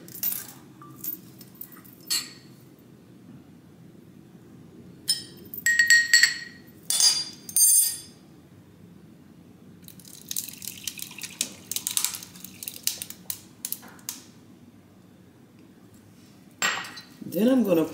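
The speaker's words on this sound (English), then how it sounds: "I'm just gonna pour this in." Liquid poured into a container in a kitchen, with scattered clinks and knocks of utensils and dishes in between; no one speaks.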